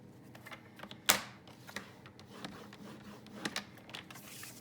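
Cardstock is scored for a buckle fold card with a scoring tool on a board, giving soft scraping strokes and light taps punctuated by one sharper click, quiet and close.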